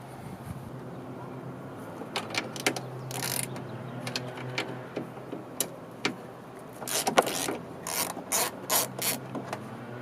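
A ratchet on a long extension clicks in quick runs while bolts are loosened from the side mirror of a 2010 Ford F150, the close pawl ticks coming in irregular bursts against a steady background hum.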